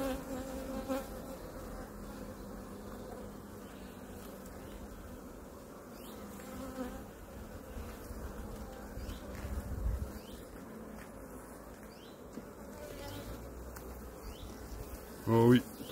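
Bees buzzing steadily around an opened hive while a colony is moved from a nucleus box into a full hive, a soft continuous drone with occasional louder passes, faint voices now and then and a brief thump near the end.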